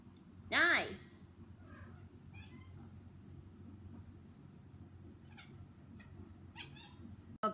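A single loud, close meow opens the passage in Kirby's Return to Dreamland, followed by fainter game effects over a steady low hum, with a person talking quietly at times.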